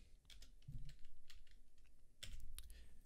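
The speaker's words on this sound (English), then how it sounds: "So we'll go ahead and just type that in." An amount is typed on a computer keyboard for a crypto transfer, with a quick, light run of key clicks, close and quiet, in small clustered bursts.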